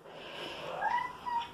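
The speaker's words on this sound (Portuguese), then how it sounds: "Ai, que miadinho" A young orange stray cat with a slightly injured muzzle, rescued from the street, gives a soft, thin meow close by, rising then falling, followed by a second brief cry.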